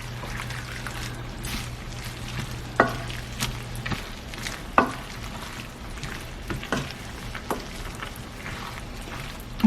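Watered-down Alfredo sauce stirred through cooked sausage in a pan, with a low bubbling simmer, a steady hum underneath for the first few seconds and occasional sharp spoon clacks against the pan.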